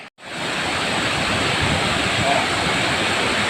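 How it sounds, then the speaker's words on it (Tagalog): Marangig Falls in Maragusan, Davao de Oro roars as a steady, dense rush of falling water, heard close and loud after a brief cut at the start. "Ito na tayo sa talon."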